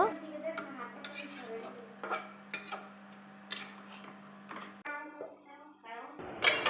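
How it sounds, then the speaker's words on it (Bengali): Rui fish curry with green chilli and coriander leaves being stirred in a pot: quiet scrapes and metallic clinks of a spoon against cookware under a steady low hum, while someone talks throughout. "এখন আমি কাঁচামরিচ ও ধনিয়া পাতা দিয়ে এখন আমি ভালোভাবে আরেকবার নেড়ে দিব"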